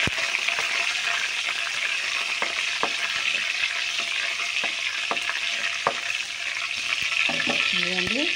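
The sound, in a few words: curry leaves sizzling in hot oil, stirred in a pan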